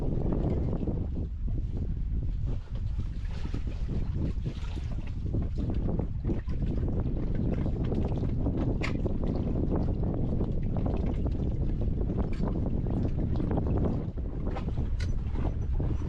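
Dinghy fitted with an outboard motor and battery heading ashore, a loud constant motor and water rush with heavy wind buffeting the microphone throughout.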